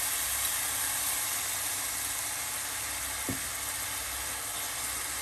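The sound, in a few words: tomatoes frying in quail karahi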